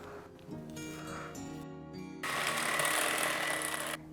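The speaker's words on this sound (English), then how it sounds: "then give it one last beat" An electric mixer beats oat cookie dough with raisins, nuts and seeds in a bowl, running close and steady with a whirring hum that rises to a louder, fuller buzz before it stops.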